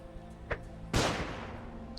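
A flashbang grenade goes off with a single sharp, loud blast that fades over about a second, in the video game Underrail. A fainter shot sounds just before it, with no talking.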